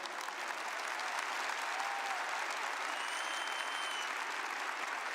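A church congregation applauds during a Portuguese-language sermon, giving a steady, dense wash of many hands clapping at once that holds at an even level for the whole stretch, with no speech on top.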